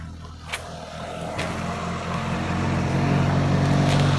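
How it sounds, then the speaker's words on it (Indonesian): A motorbike passes along a rural road in Gunungkidul, its engine hum rising gradually and growing louder and nearer over a few seconds, with faint ticks in the background. "Ya ana motor liwat lur."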